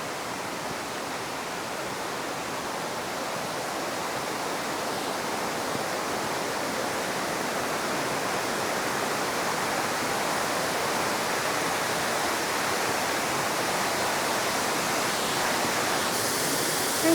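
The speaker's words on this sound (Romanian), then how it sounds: "Da, acum se aude și apa." A river flows near a temple in Chiang Mai, Thailand, a steady broadband rush of water that swells slightly louder over time, with no voices.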